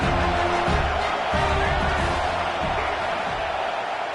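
Dense stadium crowd roaring and cheering at a Razorbacks football game, a loud, steady wall of voices with swelling shouts across the whole stretch.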